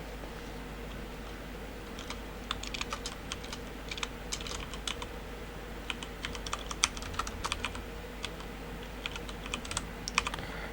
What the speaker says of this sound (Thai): แล้วเราก็พิมพ์ลงไปนะครับ